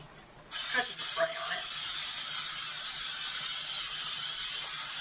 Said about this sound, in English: we're going to put some cooking spray on it.